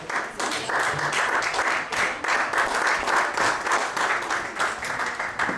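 A church congregation claps for God in a steady, fairly loud wave of many hands, with rhythmic pulses as the clapping swells and falls throughout.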